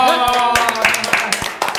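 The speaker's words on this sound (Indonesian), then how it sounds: "Oke, tepuk tangan dulu dong." A few people clap their hands in a small indoor group, several sharp claps over a lingering tonal sound, loud and close.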